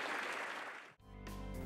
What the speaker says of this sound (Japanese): 大きな拍手が送られました。